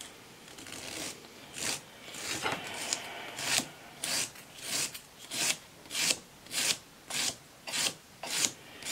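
Coarse file rasping in a steady rhythm of repeated strokes at a fake fingernail, each stroke a bright, scratchy burst; close and clear with no talking.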